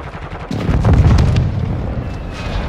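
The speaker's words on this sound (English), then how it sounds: "Enemy precision airstrike." Enemy precision airstrike in Call of Duty: Modern Warfare II, a heavy booming explosion that swells loud and rumbles low, trailing off into a sustained roar with gunfire crackling beneath.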